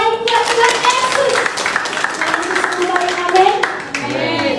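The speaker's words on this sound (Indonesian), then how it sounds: "Tepuk tanganmu yang terbaik buat Tuhan Yesus." A church congregation at a Sunday worship service clapping hands loudly and continuously, dense rapid claps mixed with voices and music underneath.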